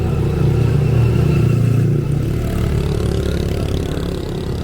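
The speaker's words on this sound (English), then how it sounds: "A lot of noisy motorbikes" Loud, continuous engine drone from nearby motorbikes on a village road in Bali, a rough steady rumble that swells slightly and then fades a little.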